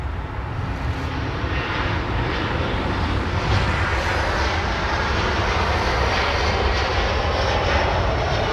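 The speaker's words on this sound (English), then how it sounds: "A330, what a wonderful looking departure," A Virgin Atlantic Airbus A330 takes off from Los Angeles International, its engines giving a loud, sustained jet roar that swells slightly mid-way and holds steady, heard alone without talk.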